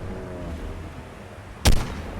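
A single loud burst of gunfire from a weapon in the mobile game ARK Mobile, fired while riding a flying creature, cutting sharply through steady background game noise near the end.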